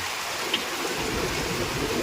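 Steady rain pours down in a dense, even hiss with no letup, heard alone without voices.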